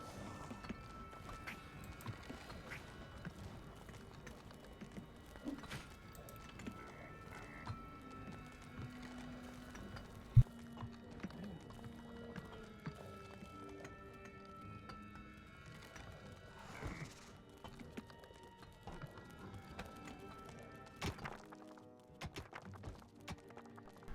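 Donkey hooves trotting in the game Dungeons 2, a soft steady clip-clop pattern running throughout, faint and fairly distant beneath light game ambience.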